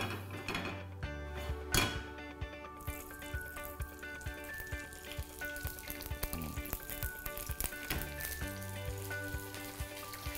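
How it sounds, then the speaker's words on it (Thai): Sea bass fillet laid skin-side down in a very hot pan, crackling and sizzling steadily with sharp spits and pops, close and fairly quiet, with occasional clinks of a utensil. "เอาด้านหนังนาบลงไปเลยนะครับตอนนี้กระทะร้อนจัด"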